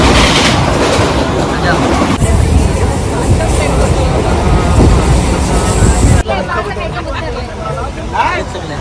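Crowded passenger train moving in heavy rain, a loud steady rumble and rattle of the carriages with people talking over it throughout.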